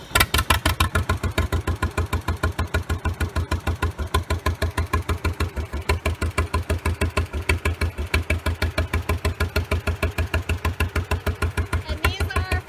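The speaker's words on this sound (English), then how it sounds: "now Taylor's going to start our tractor" A farm tractor engine runs at idle close by, a loud, steady rapid chugging pulse that continues evenly throughout, with no talking heard over it.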